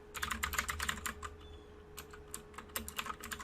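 Fast typing on a new computer keyboard, close and crisp, in bursts of rapid keystrokes broken by short pauses.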